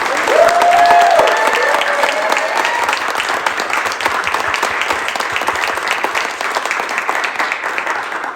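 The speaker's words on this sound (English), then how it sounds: "Can we just get one last round of applause for all our speakers?" An indoor audience at a State House event on an ethnic studies bill gives a loud, sustained round of applause, dense clapping that fades slightly toward the end.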